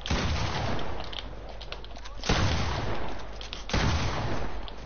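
Gunfire in a shooter video game, three heavy booming shots spaced roughly a second and a half apart, each followed by a rumbling tail, loud and close with no talk.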